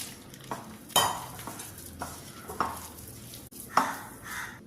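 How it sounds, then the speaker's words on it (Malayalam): Ragi dough is worked by hand with water in a bowl, giving a handful of sharp knocks and soft squelching pushes at irregular intervals, close by, with quiet gaps between. "വെള്ളവും ചേർത്ത് ഒന്ന് കുഴച്ചെടുക്കാം"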